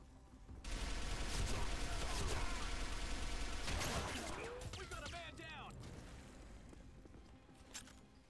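Gunfire and explosions from an arctic combat shooter video game, dense bursts of shots and booms sustained for several seconds before tapering off, with a faint voice underneath.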